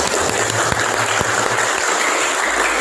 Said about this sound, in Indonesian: Tepuk tangan lagi yang lebih keras.